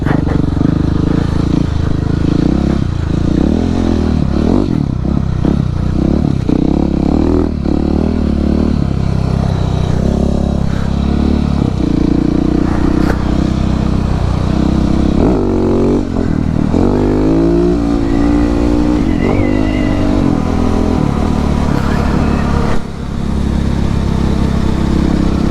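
A Husqvarna 701 supermoto with a 700cc engine rides on icy, snowy roads, its loud engine revving up and down continuously with shifting pitch and some clatter, close and dominant throughout.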